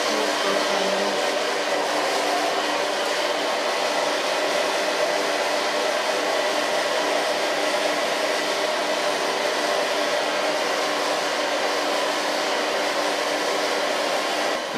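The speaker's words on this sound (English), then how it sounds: "Dit is de hardste stand van deze föhn." A handheld hair dryer blasts on its highest setting in a hair salon, a loud, steady, unbroken roar of rushing air that holds constant throughout with no talking over it.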